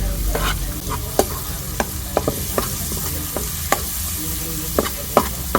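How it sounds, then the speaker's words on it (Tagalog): Onions hit hot oil in a pan for spaghetti sauce, giving a steady sizzle and fry hiss. Sharp scraping clicks from a spoon stirring the pan come every second or so, close up, with no talk. "At ilalagay na rin po natin yung sibuyas."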